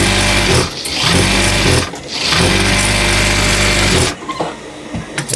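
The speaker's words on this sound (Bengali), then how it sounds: "এখানে আপনাদের কাপড় সেলাই দিতে হবে এটাতে" A sewing machine stitches fabric for a mini kali palazzo salwar in loud, rapid runs, each lasting a second or two, separated by brief pauses and ending in a softer stretch.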